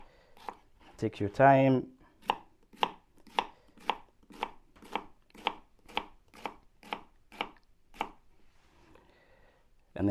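A knife chops vegetables for leek and potato soup on a cutting board in a steady run of about fourteen crisp, evenly timed cuts. A voice speaks briefly at the start.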